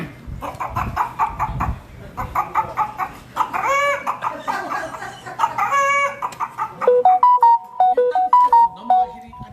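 A person imitates a hen running about a front yard, clucking in quick bursts and squawks, ending in a rhythmic series of higher, sung clucks.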